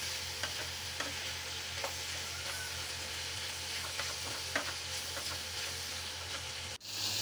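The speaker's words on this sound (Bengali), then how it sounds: "এই যে চিচিঙ্গাটা সিদ্ধ হওয়া পর্যন্ত আমি নেড়ে নিব ভালো করে।" Snake gourd being stirred with turmeric and salt in a frying pan, a steady sizzle running throughout with spatula scrapes recurring every second or so, close and alone, ending in a brief clatter.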